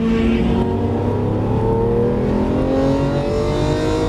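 Lamborghini Aventador LP700-4 accelerating hard, its engine roaring loud and close with steadily rising pitch as the car pulls forward on a track, a continuous strong drone with no talk over it.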